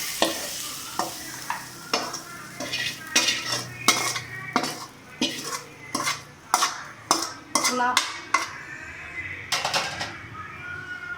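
Sautéed mint mixture scraped from a pan onto a plate, a rhythmic series of loud metal spoon knocks and scrapes against cookware over a faint sizzle, with no talking.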